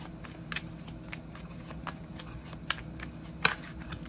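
Tarot cards being shuffled and drawn by hand, a soft steady riffling with several crisp, sharper card snaps standing out, close and alone with no voices.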